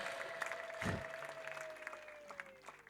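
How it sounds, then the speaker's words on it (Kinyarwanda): A crowd at a prayer service applauds with a continuous patter of clapping, steady and moderately distant, with a sustained tone running underneath. "Reka dukomere Imana amashyi menshi."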